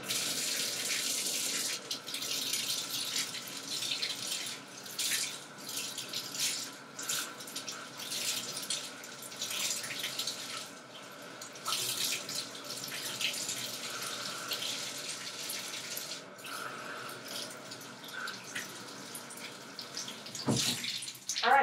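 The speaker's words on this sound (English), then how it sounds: "I'm just going to moisten the brush and then we'll get started with washing and cleansing my face." Tap water runs steadily into a sink to wet a facial cleansing brush, a continuous close splashing hiss lasting throughout, with a brief clunk at the end.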